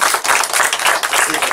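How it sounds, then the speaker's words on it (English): Audience at a council workshop breaks into steady, dense applause, a continuous wash of many hands clapping close by for the whole moment, with a voice faintly underneath. "If we give them a round of applause, please."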